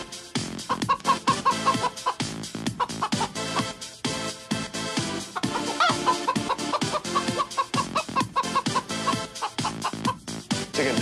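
Chickens cluck loudly and repeatedly in a busy, rhythmic stream, close and continuous with no talk.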